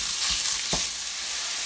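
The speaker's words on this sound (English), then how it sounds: "The first thing we're going to put in is our chorizo sausage. And we're going to break that up." Chorizo sausage sizzling in a hot pan for jambalaya as it is broken up, a steady bright crackle with a couple of soft knocks from the utensil pressing the meat.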